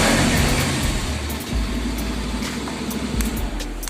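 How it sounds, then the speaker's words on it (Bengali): A Bajaj Pulsar 150 Neon BS6 motorcycle, a 150cc bike, runs with a steady, rough exhaust note close by, the engine pulsing and briefly swelling in revs over a constant hiss, with no talking. "এক্সস্ট নোটের আওয়াজটা যথেষ্ট ইন্টারেস্টিং লাগলো ফর 150cc বাইক"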